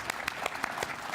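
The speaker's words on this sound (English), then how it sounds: "Oh yes, give him a clap." An audience applauds during a political speech about the Pilbara: a steady patter of clapping with regular, distinct hand-clap peaks over about a second, fairly close and moderately loud, with no talking over it.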